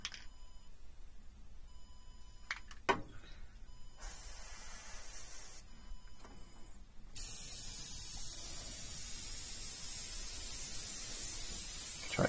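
An airbrush mists semi-transparent garage kit flesh paint onto a Batman figure in short hissing bursts, then a continuous louder spray hiss for the final few seconds, with no talking.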